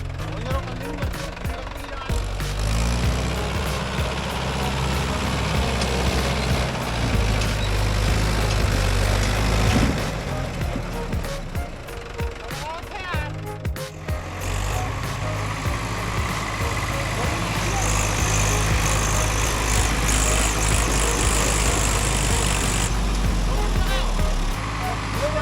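A mid-sized tractor engine drones and labours steadily while climbing a muddy slope, loud and continuous with a heavy low rumble that rises and strains, with no voices over it.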